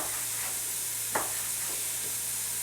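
Onions sizzle softly in a frying pan, a steady faint hiss with a light stir or scrape partway through and no talking.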